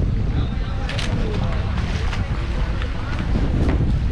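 A boat crossing the sea between Okha and Bet Dwarka gives a steady, loud rumble with wind buffeting the microphone and faint water wash throughout.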